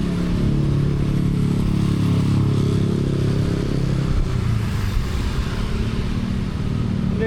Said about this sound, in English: Oh, and then another scooter comes up.